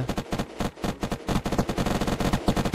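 Gunfire in the Unturned video game: rapid bursts of loud automatic shots, dense and near-continuous, with brief gaps between bursts and no talk.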